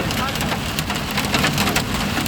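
Heavy rain with falling hail drumming steadily on a moving car near Madina in Saudi Arabia, a loud continuous hiss and patter filling the clip, with a voice talking faintly beneath.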